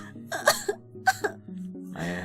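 A person coughs roughly twice in a harsh, throaty way, close and fairly loud, with some voiced throat-clearing noise and a brief vocal murmur near the end.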